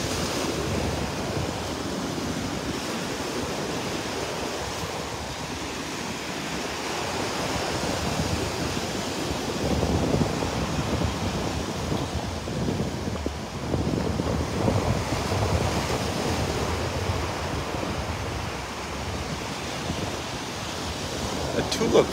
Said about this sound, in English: It's gonna be windy and noisy.